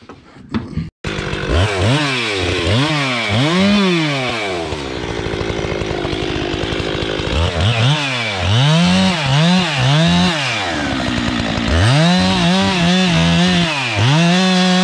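A chainsaw cuts white oak logs during logging, the engine revving up and dropping back again and again in long sweeping bursts, loud and close, after a brief knock at the start.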